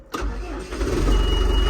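A tractor engine cranks and catches after sitting idle for about a day, settling into a steady, loud low rumble that builds over the short clip.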